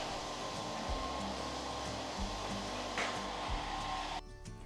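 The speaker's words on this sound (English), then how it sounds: "These can be easily removed with the help of hot air from a hair dryer." A hair dryer blows hot air in a steady, fairly quiet whir with a constant hum, cutting off near the end.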